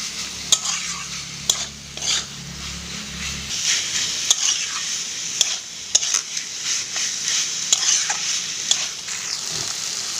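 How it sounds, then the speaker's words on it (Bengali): Banana flower and fried potatoes are sautéed and stirred in spiced oil for a Bengali ghonto. A close, loud sizzle runs under repeated metallic scrapes and clicks from the stirring. A low hum sounds during the first few seconds. "এবারে আমি দিয়ে দেব ভেজে রাখা মোচা আর আলু। সব কিছু ভালোভাবে একসাথে কষিয়ে নিতে হবে।"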